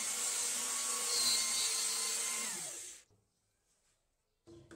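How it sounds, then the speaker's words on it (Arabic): A power router bores a hole through a piece of wood for a louver jig, a loud steady high-pitched whine with a descending tone as it winds down after about three seconds, followed by near silence and a brief clatter. "ثم نضع هذه القطعة من الخشب يأتي الناحية ونعيد ثقب آخر"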